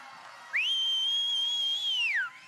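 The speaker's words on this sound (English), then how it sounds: "If you can whistle, I want to hear it." A single loud, sustained whistle rises from the crowd at an Australian bodybuilding competition, holding one steady high pitch for nearly two seconds before sliding down and fading, with only faint room noise around it.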